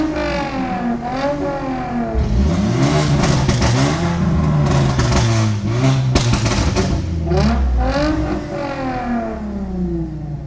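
Straight-piped BMW F30 revving hard through repeated pulls, with loud rising and falling engine pitch sweeps, a brief lull near the start and sharp crackling pops between shifts, close and continuous throughout.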